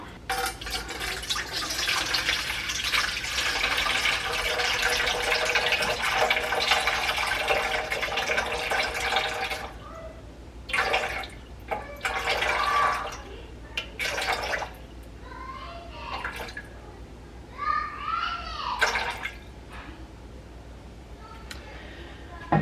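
Water pours steadily into a container for several seconds with a bright splashing rush, then stops and a person speaks in short bursts.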